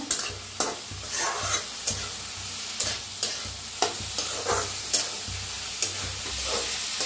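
Moth beans (matki) roasting in oil in a pan for a dill greens dish, a continuous sizzle broken by regular spoon scrapes and taps every half second or so, fairly close and loud.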